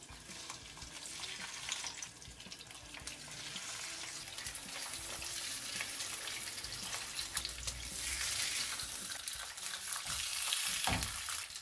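A mackerel fillet fries skin-side down in a thin layer of olive oil with a dense, steady sizzle and crackle, a little louder toward the end, with no voices.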